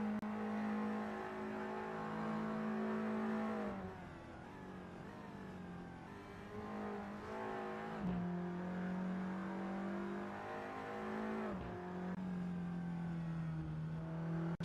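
A race car in a sim racing game, its engine droning steadily at high revs, with a few shifts and dips in pitch as the car runs down a back straight.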